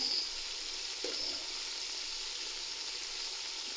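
Steady loud sizzling of garlic-ginger paste frying in a hot pan, a continuous hiss with a faint stir-like scrape near the start.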